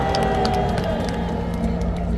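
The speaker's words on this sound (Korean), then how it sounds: "감사의 박수를 보내주시기 바랍니다." A large outdoor crowd at a political rally in Gwanghwamun Square, Seoul, claps and cheers in a steady, dense wash of noise that holds evenly throughout without a clear peak.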